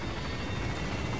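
A helicopter idles in Metal Gear Solid V, its rotor a dense, constant roar that fills the whole moment without letup.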